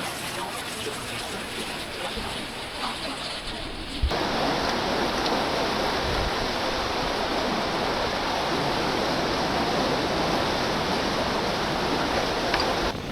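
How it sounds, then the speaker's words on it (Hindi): A fast-flowing mountain stream rushes beneath a small footbridge on a remote Himalayan trail, a steady loud broadband roar of churning water that grows fuller partway through, close by and continuous. "और ये देखो पानी कितना तेज चल रहा है।"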